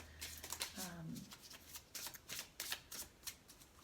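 A deck of oracle cards being shuffled by hand at close range, with repeated soft riffling bursts in an irregular rhythm, and a faint voice low in the background near the start.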